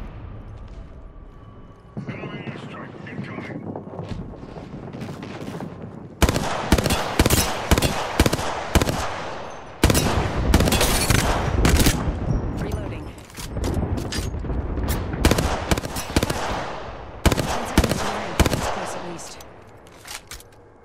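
Rapid bursts of gunfire in the Apex Legends video game come in repeated loud volleys with short gaps, over a game soundtrack and automated voice callouts.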